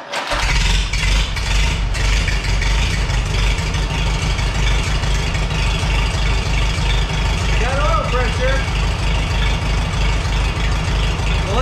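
A Farmall H tractor engine idles loud and close with a steady low chugging throb that holds evenly throughout after a brief start at the outset.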